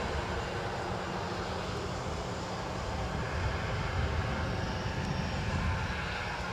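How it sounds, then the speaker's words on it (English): NetJets Europe Bombardier Global 5000 business jet departing Edinburgh, a steady, fairly faint continuous engine roar holding level throughout with no voices. "So we've got a NetJets Europe off to Zurich, a Bombardier Global 5000"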